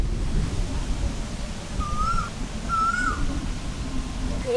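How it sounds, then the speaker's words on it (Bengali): An Asian koel calls outdoors on a summer day, giving two clear rising whistled notes a little apart. The calls stand out over a steady rumbling background. "সুন্দর কোকিল ডাকছে"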